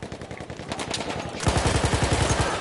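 Machine gun fire in a competitive online shooter match, a steady, loud rapid burst of evenly spaced shots that grows heavier halfway through.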